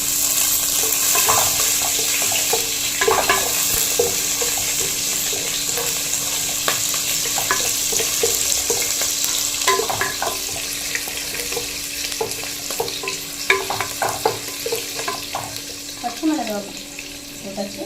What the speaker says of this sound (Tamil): கருவேப்பிலை கொஞ்சம் போட்டு அது கொஞ்சம் பொரிஞ்சிட்டோடனே பச்சை மிளகாய் போட்டுக்கலாம்.